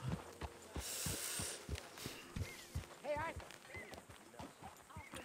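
Horse hooves clip-clopping in a western video game, a steady walking rhythm of sharp hoof strikes over ambient game noise, with a voice speaking briefly partway through.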